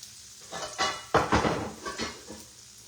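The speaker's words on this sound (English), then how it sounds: "we'll just fry it some more" Fatty catfish meat sizzles in a skillet in short, uneven bursts of spitting and crackle, punctuated by a few scraping stirs against the pan, moderately close with no talking.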